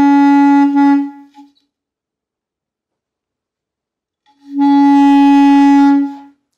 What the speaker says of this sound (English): I'm gonna slowly move my tongue towards the tip of the reed while keeping my air constant.